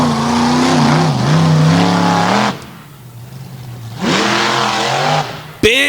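A racing truck at the 2022 All Star Championship revs hard in two long sustained bursts with rising and falling pitch, separated by a quieter lull, then gives a sharp short blip at the end.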